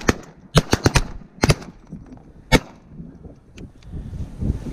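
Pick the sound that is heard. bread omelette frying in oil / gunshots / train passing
gunshots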